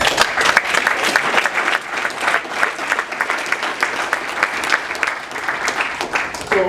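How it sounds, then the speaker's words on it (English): An audience at a banquet applauds steadily, dense clapping from many hands sustained for several seconds at close range. "So let's clap it up."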